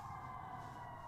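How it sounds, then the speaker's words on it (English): Emergency vehicle sirens wail steadily in the background, a sustained tonal drone that stays at even loudness throughout with no talk over it. "Sorry for the sirens, y'all."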